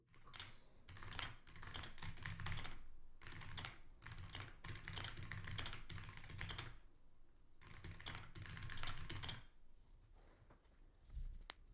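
Continuous rapid typing on a computer keyboard, entering Japanese text, with dense clattering keystrokes in bursts separated by brief pauses, close and fairly loud throughout.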